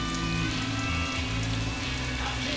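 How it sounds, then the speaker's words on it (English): Onions frying in two tablespoons of butter hiss and crackle in a steady, close sizzle, with a faint low hum underneath and no talking. "2 tablespoons of butter and put in these onions"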